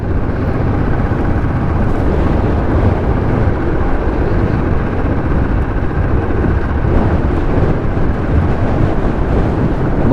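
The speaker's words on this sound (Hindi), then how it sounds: "बहुत ही ठंडी हवा चल रही है" Steady, loud rush of cold wind buffeting the microphone while riding a motorbike through green hill country in Pithoragarh district, a continuous broadband roar that runs unbroken with no talk.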